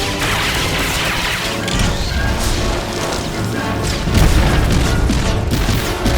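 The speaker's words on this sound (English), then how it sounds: "And with one last barrage of missiles," Rapid missile barrage blasts wreck a turret in Star Wars: The Old Republic, a dense, loud run of crashing booms and metallic impacts with a heavier explosion near the end, no talking.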